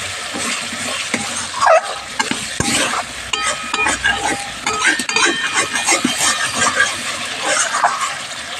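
Masala spices fry in oil in a pan for a potato and eggplant curry, with a close, busy sizzle and frequent scraping stirs giving uneven bursts of louder crackle.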